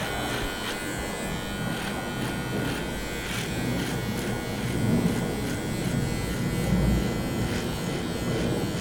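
Braun MGK7220 electric trimmer cutting a beard, used for the first time straight out of the box: a continuous close buzzing hum that swells slightly as it presses into the hair.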